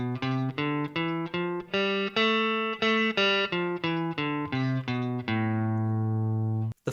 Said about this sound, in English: minor scale sounds like this